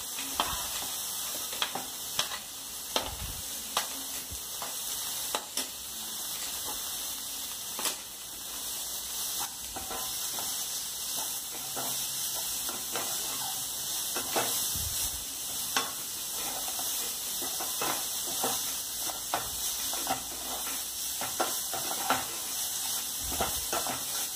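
Finely chopped carrot stir-fries in a hot pan for Indian-style fried rice, giving a continuous loud sizzle with regular sharp scraping taps from a stirring spatula.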